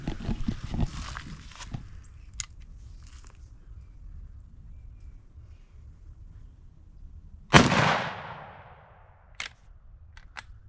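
A 1964 Winchester Model 94 lever-action rifle in 30-30 fires outdoors: one sharp, loud report with a short decay, set among scattered fainter clicks and bumps in a quiet field.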